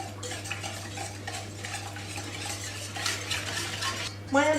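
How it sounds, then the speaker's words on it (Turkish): A spoon stirs crumbled yeast and a tablespoon of sugar in a bowl for croissant dough, producing a steady scraping, clinking rhythm over a constant low hum, ending with a brief louder knock. "Bunları böyle bir karıştırıyorum"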